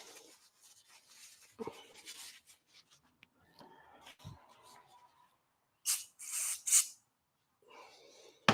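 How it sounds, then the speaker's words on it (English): Brake cleaner spritzes from an aerosol can in a few short, close hissing bursts, separated by quiet stretches with faint rustling and handling noises. "I think we're going to give a little spritz on the brake clean one more time."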